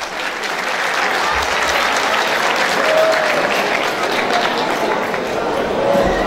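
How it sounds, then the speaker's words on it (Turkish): An audience at a village goose-night event in Aydıngün applauds in a dense, sustained burst of clapping that carries on steadily with a few faint voices underneath. "Bir alkış daha rica ediyorum sizlerden."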